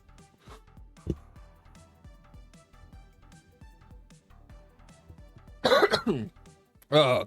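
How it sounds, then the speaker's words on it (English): A person coughs and clears their throat among quiet background sounds, with two loud, harsh coughing bursts near the end, close to the microphone. "Oh, goodness, my cough is awful."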